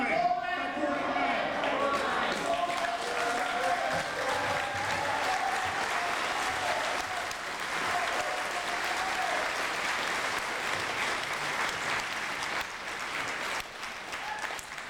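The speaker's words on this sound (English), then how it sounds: "I appreciate it if we could hold the applause and let the speakers speak" Sustained applause from an audience at a public meeting where Menominee people speak against the Back 40 mine, dense clapping holding steady for about fifteen seconds with crowd noise mixed in.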